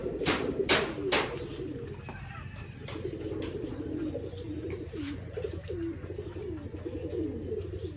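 Several pigeons coo continuously in a loft kept for breeding, a steady overlapping murmur of low throaty calls close by, with a few sharp clicks and knocks early on and no talking.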